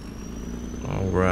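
A tractor engine idles in Farming Simulator 22, a steady low mechanical hum that swells slightly toward the end as a person begins speaking over it.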